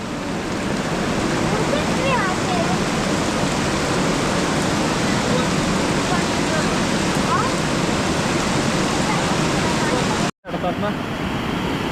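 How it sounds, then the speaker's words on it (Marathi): A swollen stream rushes after heavy monsoon rain in the Konkan countryside, a loud, steady, broadband roar of churning water that fills the whole stretch, briefly cutting out near the end. "ओढ्याला पाणी खूप वाढलंय"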